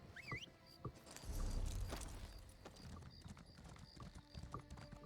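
Horse hooves clip-clopping in Elder Scrolls Online, a steady trotting rhythm of close, crisp hoof strikes with a brief rumbling surge partway through and faint game ambience around it.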